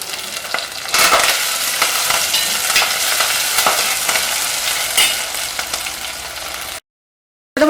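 Shallots, dried chili, green chili and curry leaves sauté in hot oil with a constant nearby sizzle and scattered stirring clicks, ending abruptly in silence; no talking.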